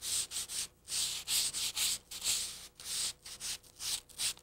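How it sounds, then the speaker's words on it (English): Fine sandpaper rubs along wooden heddle sticks for a Navajo loom in quick, even back-and-forth strokes, about a dozen soft rasping passes close by with brief pauses between them. "sand them down with a really fine sandpaper"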